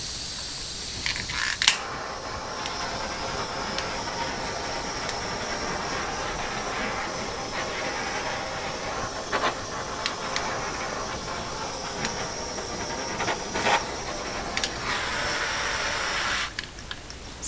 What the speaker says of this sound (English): I'm going to try the torch first.